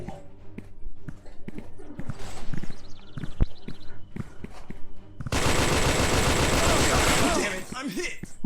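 Gunfire in the VR shooter Special Force VR, with scattered sharp shots over clattering game noise, then a dense, loud sustained burst of automatic fire in the second half.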